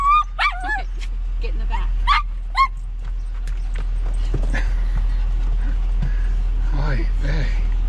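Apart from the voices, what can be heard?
dog barking and whimpering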